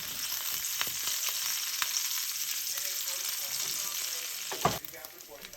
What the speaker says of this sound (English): Pancetta is releasing good amount of fat and it's getting a nice sear.